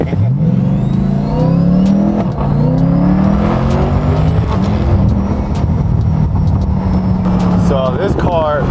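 A supercharged wide-body Corvette C8 revs hard on the move, its engine note climbing and falling in repeated sweeps with strong low rumble and constant loud road and wind roar.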